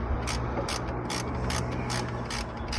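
A ratchet clicks in quick bursts while tightening the starter motor bolt on a Peugeot 205 diesel, with several short rhythmic runs of close, crisp pawl clicks over low background hum.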